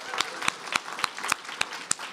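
An audience claps for a writer at a faculty presentation, with sharp, evenly spaced claps at a brisk rhythm over faint background voices.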